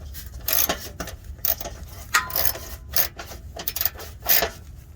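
A socket wrench ratchets in quick, repeated strokes, about five or six bursts of clicking, while snugging a heat shield on a 2013 Toyota Sienna; the sound is close and clear with no talking.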